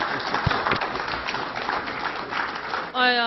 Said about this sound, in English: give a warm round of applause one more time for Mr. Trevor J. Constable